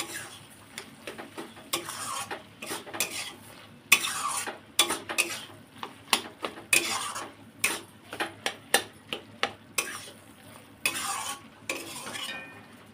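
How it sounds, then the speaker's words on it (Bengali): Chicken filling for puli pitha is stirred in a pan with a spatula, giving a steady run of sharp, close scraping and tapping strokes against the pan, with no talking. "খুন্তি দিয়ে একটু ঘেটে ঘেটে দেবো।"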